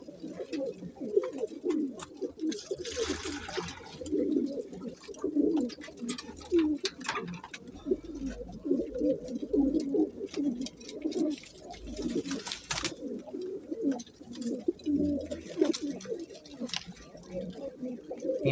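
Pigeons coo continuously nearby, low throaty rolling calls overlapping one another in a steady, moderately loud chorus throughout.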